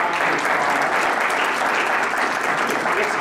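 A museum audience breaks into steady, loud applause. The many hands clap in a thick, continuous wash with no talking over it.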